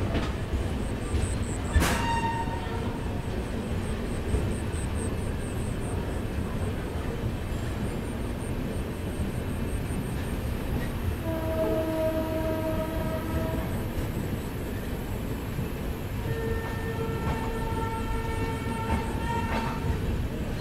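Passenger train on the Machilipatnam to Dharmavaram line running past Gudivada Junction, heard from on board as a steady rumble of wheels and carriages, with a sharp horn blast early on and longer horn calls later, no talking.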